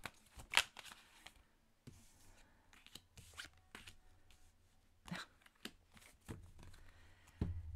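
Tarot cards shuffled by hand at close range in a quiet room, with quick papery riffles and soft slides coming in irregular bursts, ending with a louder thump, no voices.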